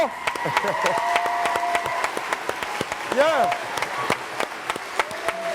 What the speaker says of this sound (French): Je vais vous demander d'applaudir très fort.